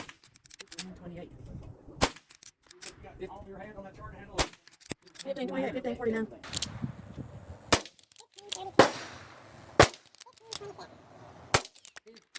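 A .22 rimfire rifle with a 16-inch barrel fires several sharp, loud single shots through a chronograph, spaced a second or two apart, with a person talking in between.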